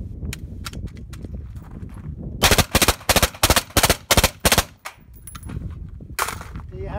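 Sustained full-auto gunfire through a Thunder Beast DSU suppressor during a 14-magazine abuse test, loud rapid bursts of suppressed shots in tight strings, with a short pause between groups.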